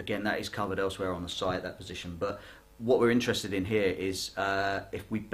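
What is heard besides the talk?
No distinct noise like a dog, phone or traffic.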